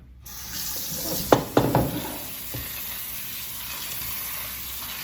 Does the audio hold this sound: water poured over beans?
yes